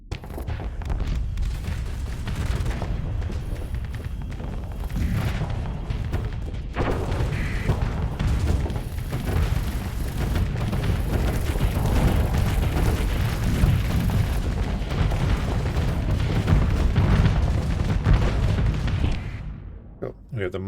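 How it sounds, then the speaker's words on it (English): Mostro cannons fire in the space combat game Starsector in dense, continuous rumbling booms for about twenty seconds, with layered explosions under a speaking voice. "We have the Mostro cannons going off."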